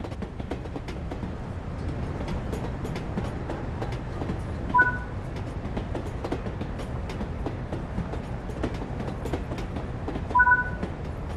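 Steady rhythmic clickety-clack of a steam train in a video game rolling along the rails, with two brief high metallic tones sounding over the running noise.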